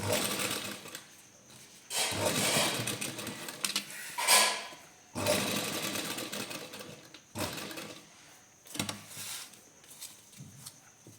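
A sewing machine stitches lace onto a garment neckline in close, loud, rapid runs that start and stop several times, with quiet pauses between bursts.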